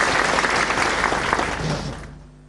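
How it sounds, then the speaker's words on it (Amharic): An indoor audience at a senior leadership gathering marking a lieutenant general's book on the Northern Command attack gives sustained, dense applause that fades out toward the end. "ሞቅ ያለ ጭብጨባ አንድ ጊዜ"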